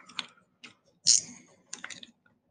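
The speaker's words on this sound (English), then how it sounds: "It's got clicking drag." Fishing reel with a clicking drag, unboxed new: a few quick close ratcheting click bursts, the loudest mid-clip, separated by short pauses, with no talk over them.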